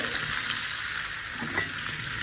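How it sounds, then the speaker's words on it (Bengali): Tuna frying in a pan gives a constant, dense sizzle, close and even throughout, with a faint clink near the end. "মাছ ভাজা হচ্ছে"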